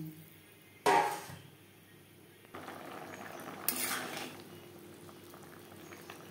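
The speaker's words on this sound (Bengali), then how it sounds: "আলু সেদ্ধ হওয়া পর্যন্ত অপেক্ষা করব" Potatoes simmer in a Bengali-style fish curry gravy with soft, continuous bubbling, broken by two louder bursts of spoon and pot clatter.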